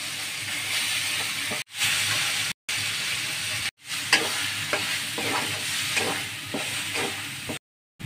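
Green pea paste stir-frying in a pan with black cumin, a steady close sizzle and scraping stir broken by a few short silent gaps.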